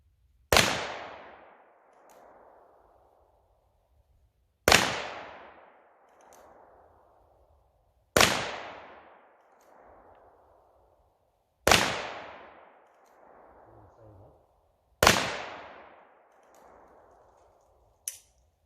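Five loud, sharp shots from a Virginian Dragoon .44 Magnum revolver fired at an outdoor range, spaced about three to four seconds apart, each with a sharp crack followed by a fading echo.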